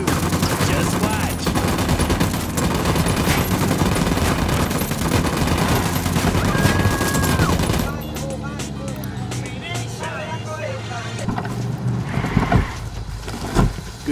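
Automatic gunfire in a Ghost Recon Wildlands firefight, dense loud bursts and shots over game noise throughout, easing slightly then spiking again near the end.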